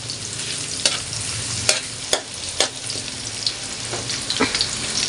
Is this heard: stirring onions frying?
yes